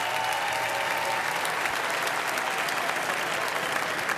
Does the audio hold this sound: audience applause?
yes